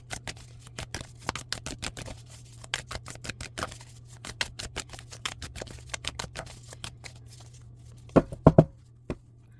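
A tarot deck being shuffled by hand during a reading: a long run of quick, soft card flicks and riffles in close, steady rhythm, ending with a few louder slaps, over a low hum.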